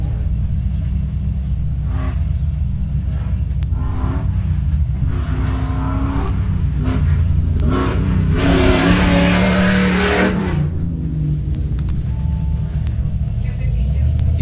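An off-road race car in qualifying at the High Desert 100 desert race, roaring steadily through the jumps section near the start-finish line, with the engine surging mid-clip while a commentator talks over the noise.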